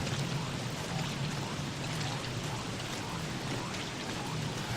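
Steady rain falls in the survival video game Don't Starve, a dense, even hiss of drops that holds at low volume for several seconds with no talking.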